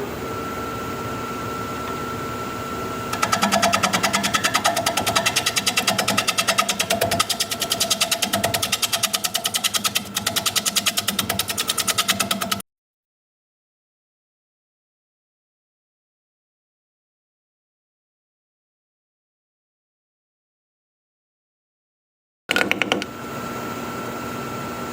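A fir bowl spinning on a wood lathe at 600 RPM and cut with a 5/8 inch bowl gouge, producing a steady, loud motor hum with a gritty scraping layer that breaks off into sudden silence before resuming briefly.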